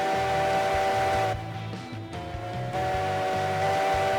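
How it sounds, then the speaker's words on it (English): Steam locomotive whistle in the train game Railroads Online, a sustained multi-tone blast held over a low rumbling engine, briefly dipping midway and then resuming. "Telling the whole world with the whistle."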